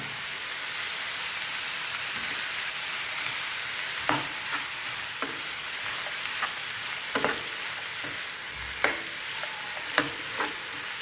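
Radish pieces cook in an oil tempering in a pan, a soft continuous sizzle punctuated by a series of sharp metallic stirring scrapes and clinks, with no talking.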